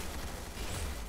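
Dense, rapid gunfire crackles in a competitive video game match, with a continuous burst of overlapping shots filling the short moment at a steady, loud level.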